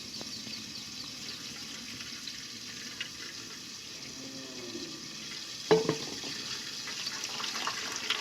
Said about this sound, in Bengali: এখন আমি নারকেলের দুধটা ভালো করে ছাঁকনি দিয়ে ছেঁকে নেব